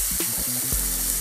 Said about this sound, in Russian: Постепенно все должно жариться.